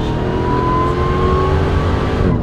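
Demon-swapped Jeep Gladiator on 40-inch tires accelerating hard from a launch, a loud continuous engine roar with a rising whine, heard from inside the truck.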